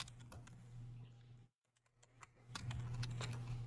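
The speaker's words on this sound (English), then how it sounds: "like you see when I'm typing" Keystrokes clatter on a computer keyboard in quick irregular bursts, close and soft, with a short pause partway through before the typing picks up again over a low steady hum.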